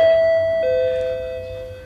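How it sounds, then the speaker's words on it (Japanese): Electronic doorbell at a home giving a single two-tone ding-dong chime, clear and close, the second lower note ringing out and fading with no voices. "ピンポン。"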